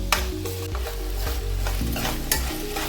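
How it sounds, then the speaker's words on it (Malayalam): Onions sautéed with sugar in a pan for a Kerala-style beef perattu, with a steady sizzle and constant stirring scrapes, a couple of sharper utensil knocks standing out, and no talking. "ഇപ്പൊ പഞ്ചസാര ഇട്ടിട്ട് നമുക്കൊന്ന് വഴറ്റിയെടുക്കാം"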